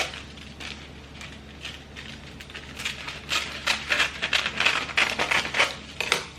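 Scissors snip through a spare sheet of parchment paper in a home kitchen, a series of short crisp crunching cuts that grow louder and denser toward the end, close up with no talking.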